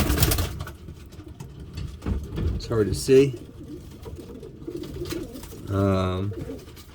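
Soft, repeated pigeon coos sound close by, a low rolling call that rises near the end, with a person talking over steady background hum.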